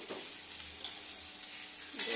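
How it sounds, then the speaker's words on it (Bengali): Ground spices frying in a pan with salt and a pinch of sugar for a home-cooked curry, giving a steady, close sizzle with light stirring scrapes throughout and a brief louder rustle near the end. "সবগুলো ভালো করে ভেজে নেব"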